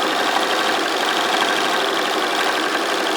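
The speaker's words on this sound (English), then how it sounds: "So I'm sewing along there" A sewing machine stitches the lining of a threadcatcher, its motor humming in a fast, even whir that runs without pause, close and fairly loud, with no talking.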